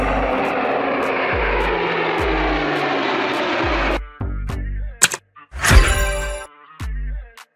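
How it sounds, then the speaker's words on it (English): An army plane flies past with a steady, loud engine roar for about four seconds, then cuts off into brief sharp bursts and tones. "Army plane."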